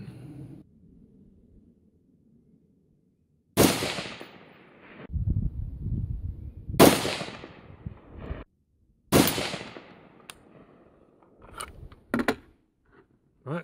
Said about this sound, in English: And now I'm gonna go ahead and shoot my third group.